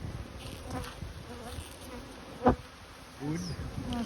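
A steady close-up buzzing of many honey bees around a hive, continuous throughout, with one sharp knock partway through.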